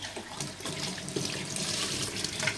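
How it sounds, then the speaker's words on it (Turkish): Water is poured out of a container into a sink while a sick bird's cage is being cleaned. The pouring is a steady, close splashing flow for a few seconds, with no voices. "Evet, şimdi o suyu döküyorum."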